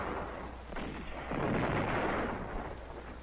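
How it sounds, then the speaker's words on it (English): Rocket shelling and strafing of enemy positions during the Battle of Saipan: a dense roar of blasts and gunfire swells into a heavier rumbling burst midway, loud and continuous with no voices. "Enemy positions were softened up by intensive strafing and rocket shelling."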